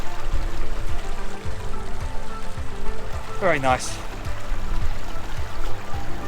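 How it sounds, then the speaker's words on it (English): A small waterfall on Dartmoor splashes and trickles steadily nearby while someone briefly speaks over it; a short high whistle cuts through partway. "Little tiny waterfall."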